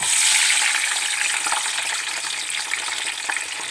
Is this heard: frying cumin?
yes